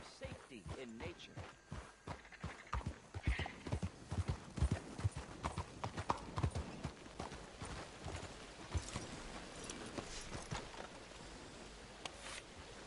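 Horse hooves clip-clop in a steady walking rhythm in the video game Red Dead Redemption 2, fairly close and clear, with a faint ambient bed underneath.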